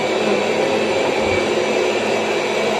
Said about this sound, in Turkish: Evet, süpürgemiz geçiyor da saygı duyuşundayız.